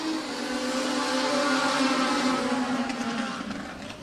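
Legends dirt race cars pull away together at the start of a heat race on a dirt oval speedway, a blended engine roar that swells, holds and then fades slightly as the pack moves off into the distance.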